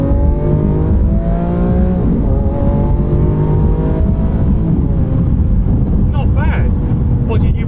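A Lamborghini Aventador S's 6.5-litre naturally aspirated V12 revs hard, a loud, continuous rising and falling howl close by, with a brief higher-pitched sound near the end.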